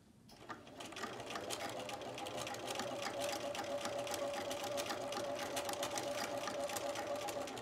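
A sewing machine stitches a seam through sequin fabric at standard stitch length, starting up and then running as a steady, fast, close mechanical whir with a fine rhythmic clatter.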